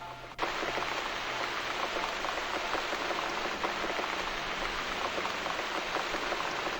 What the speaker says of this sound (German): Und der Regen fällt und fällt.